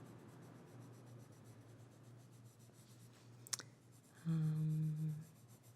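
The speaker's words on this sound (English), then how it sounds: "You can sort of rough in the general shape and then just kind of draw around it." A pencil sketches a seashell by hand on paper, with quiet scratchy strokes over low background hum, a brief click, then a louder steady rub near the end.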